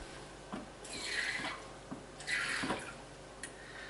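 Water is poured from a small cup into thick waffle batter, giving soft, faint splashes and drips in a few short pours, with no talk heard.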